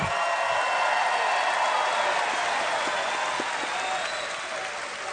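Big rally crowd at a Trump campaign speech applauding a line about repealing Obamacare, a dense steady roar of clapping that holds for several seconds and then eases slightly.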